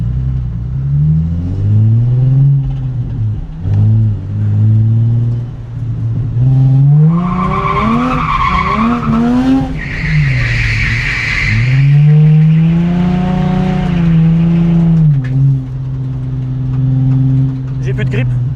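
A car drifting on worn rear tyres: the engine revs hard and loud with rising and falling pitch, and tyre squeal runs continuously underneath.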